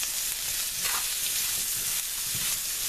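Brussels sprouts fry and brown in a pan, giving a steady, close hiss and sizzle with faint stirring, and no voices over it.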